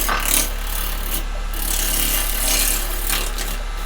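A woodturning gouge makes back cuts into a log spinning on a lathe, giving a steady, loud, rough scraping hiss with a low motor hum underneath and small surges as the tool bites.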